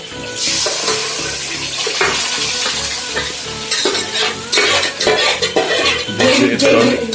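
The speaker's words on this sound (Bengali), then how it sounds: "এবার আমি মশলাটা এখানে ফেলে দেবো, মশলাটা ঢেলে দেবো।" Masala gravy pours into a pan of fried chicken chap, a loud, close sizzle and bubbling swell with scraping and clattering of the pan, and background music running underneath.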